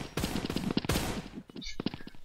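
Video game gunshots from a weapon reloaded one round at a time: a quick series of sharp, loud cracks in uneven rhythm, clustered close together over a couple of seconds with a short lull in between, with faint voices underneath.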